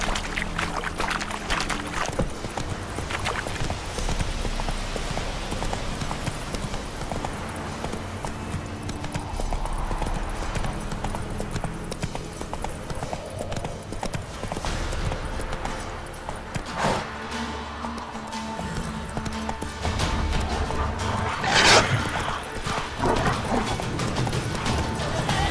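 Horse hooves pounding steadily at a gallop in the Witcher 3 video game, a continuous rhythmic clip-clop over a busy ambient bed, loud and close, with no voices.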